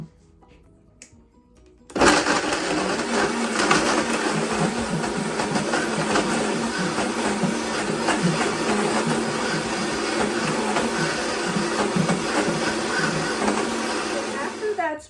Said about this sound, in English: I'm just going to go ahead and turn on the high-speed blender